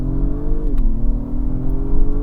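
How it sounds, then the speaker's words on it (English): The 3.0-liter turbocharged V6 of an Acura MDX Type S revs up steadily, loud and close, its droning tone shifting as it accelerates, with no talking. "Quite a pleasant sounding engine."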